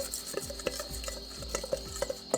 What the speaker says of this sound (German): Einmal kurz verrühren.